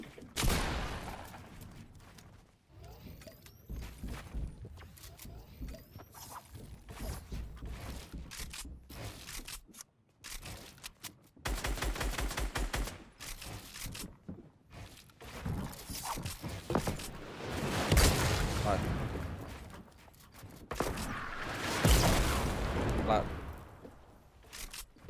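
Bursts of gunfire in Fortnite, sharp shots and volleys scattered between quieter stretches, with a person talking over parts of it.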